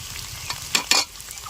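Spice powders of cumin, garam masala and chilli frying in a pan, a low sizzle with two quick scraping strokes of the spatula in close succession, nearby and without speech.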